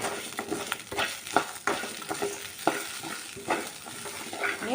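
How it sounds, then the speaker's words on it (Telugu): Cumin, fenugreek and curry leaves dry roasting in a pan for gongura pickle, soft crackles under repeated scraping stirs at an irregular pace, fairly quiet and close. "రెండు స్పూన్ల జీలకర్ర హాఫ్ స్పూన్ మెంతులు అండ్ కరివేపాకు వీటిని కూడా డ్రై అయ్యేదాకా వేయించుకున్నాం"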